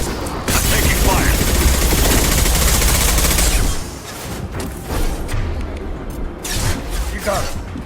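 Dense, loud automatic gunfire in Mass Effect 2 rattles continuously for several seconds, then gives way to scattered shots and bursts with a voice heard among them.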